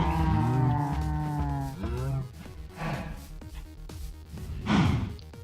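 A Minecraft cow lows: one long, drawn-out moo sliding downward, then several shorter grunting moos, and a louder one near the end. The moos are close and clear, with no talking.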